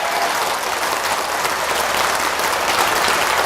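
Enthusiastic applause from an audience at a Buddhist monk's lecture in Daegu, a dense and steady clatter of many hands clapping, sustained at full volume throughout.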